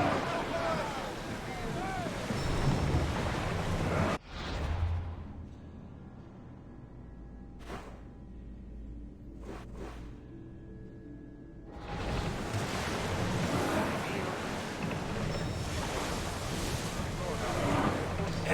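An ancient Greek sailing ship cutting through ocean waves in Assassin's Creed Odyssey: rushing water and wind, dropping to near quiet for several seconds midway before the surf swells back, with brief speech.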